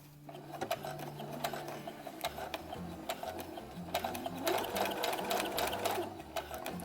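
A sewing machine runs a straight stitch on a Star Wars jumpsuit sleeve cuff, its needle ticking in a steady, fast mechanical rhythm with brief pauses, close and moderately loud throughout.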